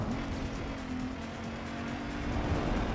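Rival race cars running close behind in the video game Need for Speed Underground 2, a steady engine drone held at one pitch under faint road noise, fairly quiet and without talk.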